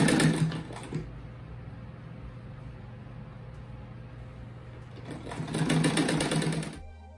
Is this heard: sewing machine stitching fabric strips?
yes